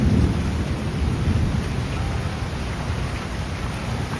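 Rain pouring over a farm field during a thunderstorm, a dense broadband roar with low rumbling thunder underneath, steady and loud throughout.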